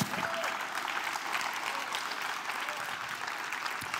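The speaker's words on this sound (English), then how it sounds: "let's give him a big hand clap." A church congregation claps together for God during a sermon, steady dense applause at moderate level filling the whole span, with a few faint voices beneath.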